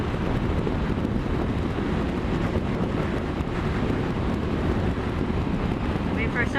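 Steady roaring wind buffets the microphone while riding a 300 motorcycle in roughly 20-mile-an-hour gusts, a dense broadband rush that fills the whole stretch without letup.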